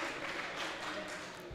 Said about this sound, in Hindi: ईटीवी उर्दू के लिए भी बजा दीजिए एक बार जोरदार तालियां